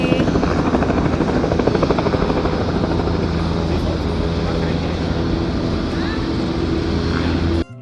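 A ferry heading to Governors Island, New York, rumbles with a loud, continuous engine drone and wind-buffeted noise that runs unbroken until a sudden cutoff at the very end.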